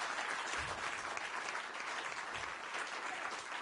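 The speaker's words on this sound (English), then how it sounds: "please welcome two of the organizers with a very, very warm applause here up on stage" Audience at a talk on long and happy living applauds warmly as two organizers come on stage, dense sustained clapping from a large crowd, steady throughout.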